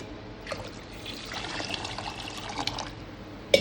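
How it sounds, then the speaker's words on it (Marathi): Water is poured generously over washed rice in a vessel to soak it for rice papad, a soft continuous trickle and splash for a few seconds, ending in a sharp knock. "भरपूर पाणी टाकून देते त्यामध्ये"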